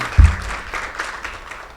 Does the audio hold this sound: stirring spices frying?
no